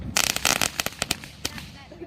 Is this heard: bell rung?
no